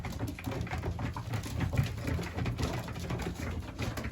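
Racing pigeons flying back to their loft after a short single toss of cocks, with a steady outdoor rumble, soft cooing and wingbeat flutters running continuously throughout.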